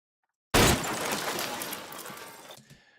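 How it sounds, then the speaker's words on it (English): A low impact hit built as a video game sound effect slams in abruptly, followed by a long crackling tail of shattering debris that slowly thins out over a couple of seconds before stopping. "the tail end of debris shattering is what makes this sound A+"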